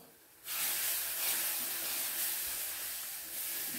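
Milk poured into a hot pan while cooking sweet javvarisi (sago) halwa, a sudden steady hiss and sizzle that starts sharply and holds loud and close throughout.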